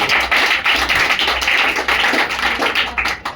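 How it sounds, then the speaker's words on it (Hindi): A crowd at a village gathering applauds a goat: brisk, continuous clapping from many hands, loud and close, with short surges and dips in intensity. "एक बार बकरा के लिए जोरदार तालियां"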